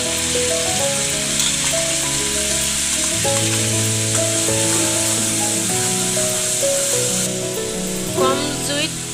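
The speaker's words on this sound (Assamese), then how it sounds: "কম জুইত এইখিনি সিজোৱালৈকে ভাজি থাকিব, যাতে পিঁয়াজৰ ওলোৱা পানীখিনি শুই যায়।" Onion paste frying in oil with turmeric in a wok over low heat, a strong steady sizzle and hiss with occasional stirring, heard beneath soft background music tones.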